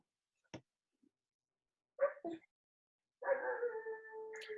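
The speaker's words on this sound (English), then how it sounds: "My dog is in the background right now." A dog howls in the background during a virtual meeting, faint and distant, with a couple of short yips before a sustained wavering howl.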